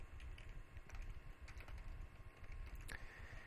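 Rapid, irregular clatter of keys on a computer keyboard while code is typed, close and steady for a few seconds with no talking.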